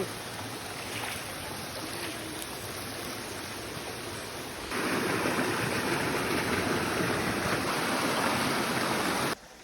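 Steady rushing water flows without pause, growing noticeably louder about halfway through before cutting off abruptly near the end.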